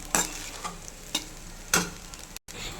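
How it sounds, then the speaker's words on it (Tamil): Egg fried rice being stirred in a pan, with several distinct scraping strokes of a spoon over a quiet, continuous sizzle, close up and with no voices. "இதை நல்லா ஒரு 2 கிண்டு கிண்டி நம்ம ஸ்டவ் ஆஃப் பண்ணிக்கலாம்."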